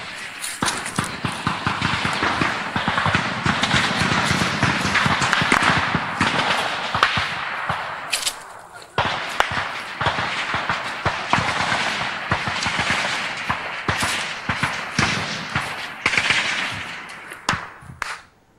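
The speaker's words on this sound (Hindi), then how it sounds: "उधर से भी फायर आ रहा है।" Gunfire during a security forces encounter, with dense bursts of sharp shots and rapid cracks continuing for the whole stretch, some loud and close, others quicker and layered, with almost no gap between them.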